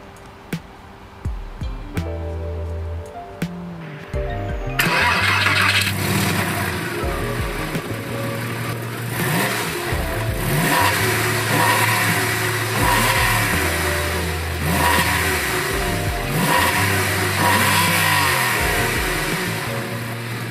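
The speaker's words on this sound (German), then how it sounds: "Unter der Motorhaube des Porsche Carrera 4 steckt ein 6-Zylinder-Motor" A 1999 Porsche 911 Carrera 4 Cabrio (996) with a six-cylinder engine: a few quiet clicks, then the engine fires up loudly and is blipped through repeated rising and falling revs around idle, close and alone.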